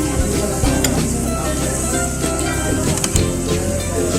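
Chicken and pork fry in a pan with a loud, continuous sizzle, crackling and spattering close by, with scattered pops, and faint voices in the background.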